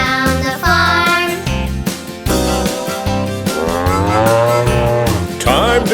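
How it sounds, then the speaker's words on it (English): An old milk cow on a farm moos in a children's rhyme, with several drawn-out sung moo calls over bouncy musical accompaniment, loud and up front. "The old milk cow goes moo, moo, moo."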